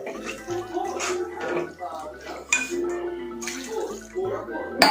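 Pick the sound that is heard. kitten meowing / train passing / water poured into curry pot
water poured into curry pot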